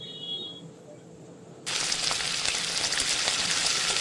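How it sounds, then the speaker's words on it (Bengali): Cumin seeds hit hot oil in a wok and erupt into a sudden loud, dense sizzle after a quiet start, continuing steadily to the end with no talking. "জিরেটা অ্যাড করার সাথে সাথে দেখতেই পাচ্ছেন টকবক করে ফুটছে"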